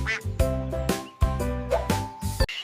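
A duck quacks loudly in a rapid series of about six nasal, buzzy calls, close and clear, with short gaps between bursts and no speech.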